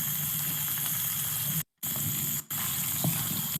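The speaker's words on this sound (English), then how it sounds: "It's frying." Cooking oil frying in a pan, a steady broadband sizzle that holds throughout, broken by two brief drops to near silence.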